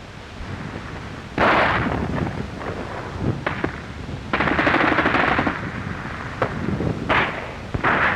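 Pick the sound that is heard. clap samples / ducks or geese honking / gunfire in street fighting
gunfire in street fighting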